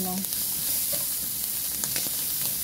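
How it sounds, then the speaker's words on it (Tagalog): Garlic sautéing in a hot pan for a simple igado, a steady close sizzle and frying crackle running evenly throughout with faint stirring. "Lagyan natin bawang. Igisa lang din natin ng mga mga 2 minutes, mga ganun."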